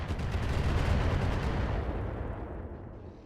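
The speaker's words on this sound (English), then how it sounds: "And here comes the bombardment." Artillery bombardment in the mech combat video game Battletech, a dense, loud rumbling barrage of overlapping blasts that holds steady for about two seconds and then gradually thins and fades.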